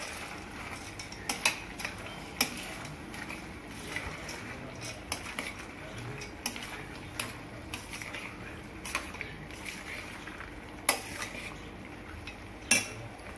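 A spoon scrapes and clinks against a pan while stirring brinjal masala curry with fried minapa vadiyalu, with irregular metallic taps and soft scraping at a quiet, close level and no talk.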